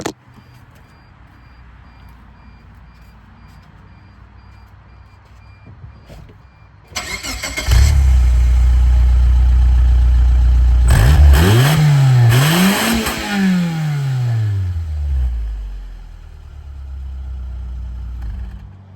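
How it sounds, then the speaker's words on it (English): A 1995 Geo Metro LSi cranks and catches after a quiet lead-in, then idles loudly up close before two rising and falling revs that climb high and drop back to idle. "That's the most I've ever and will ever rev the Geo."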